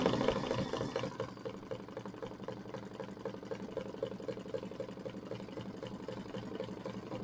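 Sewing machine running steadily while tack-down stitching raw-edge vinyl applique on a mini quilt, a close continuous mechanical hum and chatter with a slightly louder start, no talking.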